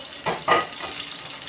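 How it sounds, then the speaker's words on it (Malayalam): A small amount of coconut oil poured into a pan for tempering mustard seeds while cooking kappa biryani, giving a quiet sizzle with two brief louder bursts, then a low steady frying hiss, with no talking. "ഇപ്പോൾ കുറച്ച് വെളിച്ചെണ്ണ ഒഴിക്കുന്നു കുറച്ച് മതി"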